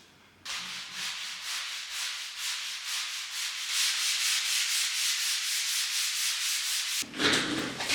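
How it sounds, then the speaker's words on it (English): Sandpaper rubs back dried filler on a Victorian stairwell wall, a steady close scratchy rasp of repeated strokes that runs nearly without pause, with a brief break before it resumes. "Sanding back all the filler that we did,"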